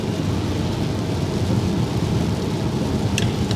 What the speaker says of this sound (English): now it's going to start raining harder